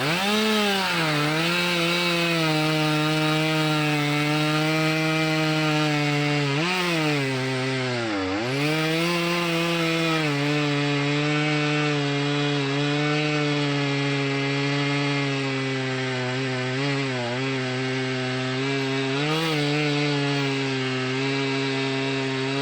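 A chainsaw roars continuously while cutting a tree loose so it hinges down along a forest road. The engine pitch dips and recovers several times as the bar bites into the wood, loud and close throughout.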